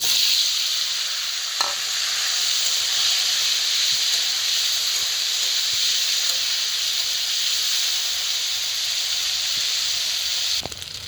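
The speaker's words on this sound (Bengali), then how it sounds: "এখন জাস্ট আমি এখন করব হলো পনিরগুলো একটু হালকা ভেজে নেব" Steady, loud sizzle of paneer pieces frying lightly in a pan, a continuous hiss with a few faint knocks of stirring, no voices.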